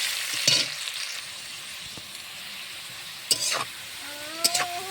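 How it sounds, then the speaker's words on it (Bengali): Carrots and mixed vegetables fry in a pan for fried rice, giving a steady low sizzle with a few louder stirring scrapes and clatters near the start and end. No one speaks. "গাজরটা সুন্দর করে ভেজে নিচ্ছি, ভাজা হয়ে এসছে।"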